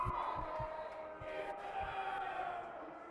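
Small fan crowd murmuring and calling out at a Great Falls Americans Blue vs White hockey scrimmage, a steady close babble of voices with a few louder shouts across about three seconds.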